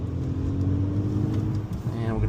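A Volkswagen GTI powering hard out of a corner, its engine note climbing steadily under a driver's voice talking over it from inside the car.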